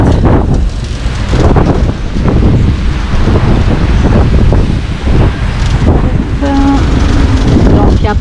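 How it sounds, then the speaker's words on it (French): Strong wind of about 27 to 28 knots buffets the microphone aboard a sailboat heading from the Bas-du-Fort marina in Guadeloupe toward Marie-Galante. It makes a loud, continuous roar with gusty surges and a brief tonal beep near the end. "Pas mal de vent"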